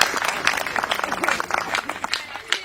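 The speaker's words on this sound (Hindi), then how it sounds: "जोरदार तालियां बजाकर पवन आगे को आमंत्रित करें" An audience claps loudly to welcome a performer onstage, the crowded, uneven patter of hands rising and falling across the moment, with some voices mixed in.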